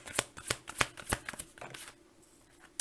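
Tarot cards are shuffled by hand in a quick run of crisp riffling bursts, loud and close with no talk, then a brief quieter pause before one last flick.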